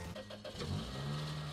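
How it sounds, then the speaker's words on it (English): A car engine cranks and catches after a broken plastic part is held in place, settling into a steady, close idle that runs on alone. "Try to start your car."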